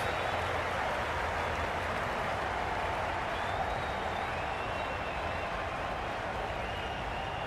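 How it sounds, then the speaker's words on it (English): Stadium crowd in the video game Cricket 22 during an India versus Pakistan T20 match, a steady, dense wash of applause and cheering that holds at an even level for the whole stretch with no one talking over it. "Will you listen to the crowd? They are loving it."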